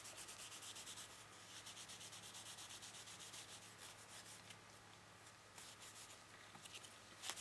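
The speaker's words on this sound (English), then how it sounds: "Just going to dip it in, and then I'm just going to rub on the stain." A cloth rubs wood stain onto small distressed wooden furniture pieces, giving a steady close scrubbing and wiping texture that continues throughout without pause, with no voices.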